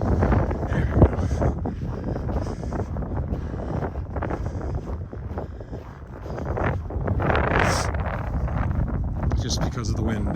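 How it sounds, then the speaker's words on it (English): Wind buffeting a microphone during a winter walk around a lake in Regina, a loud continuous rumbling roar that swells and dips across the whole stretch, no talk. "Just because of the wind."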